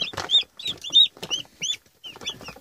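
Chicks peeping and chirping in a brooder during hatching, a run of short bright calls in quick clusters, fairly close and moderately loud, with no talk.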